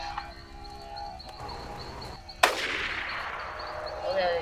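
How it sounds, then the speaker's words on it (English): A single sharp gunshot blast in the video game AniPhobia cracks out near the middle, followed by a ringing, noisy tail over a steady background of game ambience and faint tones. "Gunshots!"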